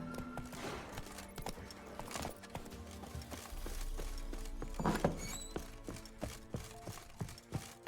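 Hooves of the horse Roach clip-clopping in The Witcher video game, a quiet rhythmic series of thuds over a low ambient game soundscape with a brief louder impact midway.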